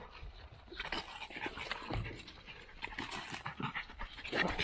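Dog snorting and panting close by in a lively burst of huffs and sniffs, with small whimpers mixed in, at a backyard pool party.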